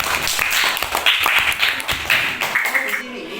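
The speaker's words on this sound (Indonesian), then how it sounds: "Tepuk tangan buat Farah." Primary school children in a classroom clap in a quick, ragged burst during a teaching lesson, the claps close and uneven, fading out near the end with voices mixed in.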